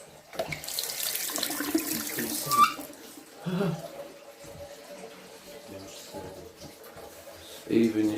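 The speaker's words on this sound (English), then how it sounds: "Water's still going" A tap left running in an abandoned six-bedroom house: a steady hissing stream of water, broken by brief clunks and splashes, with faint voices in the background.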